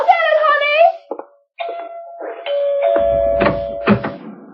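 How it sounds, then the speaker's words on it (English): A doorbell in a radio mystery drama, a clear chime that rings out, with a voice before it and other voices and a door sound near the end. "Daddy was in the study when the doorbell rang."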